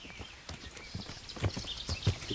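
Horse hooves clip-clop in Kingdom Come: Deliverance, a handful of soft, uneven thuds close by over a faint background bed, with no talking.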